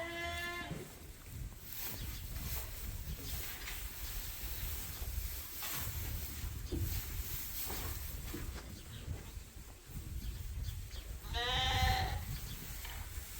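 On a sheep farm, two sheep bleats, one at the start and one near the end, cut through a constant rumbling, windy background.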